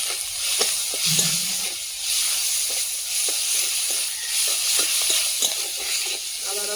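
Ginger-garlic paste spice mix with salt and turmeric frying in a pan, giving a steady bright hiss and sizzle throughout with faint scattered stirring clicks and taps, no talk.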